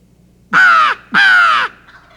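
A wild turkey gobbler gives two loud, close, harsh calls in quick succession, each about half a second long, separated by a short gap, in otherwise quiet open air.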